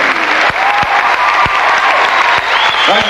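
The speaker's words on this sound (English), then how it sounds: "Perhaps we'd like to share the applause with the fabulous Rocky Horror Show Band." Loud, sustained audience applause at a live 1985 Rocky Horror stage show on an East Coast tour, with a few sharp thumps and faint whoops and whistles rising near the end.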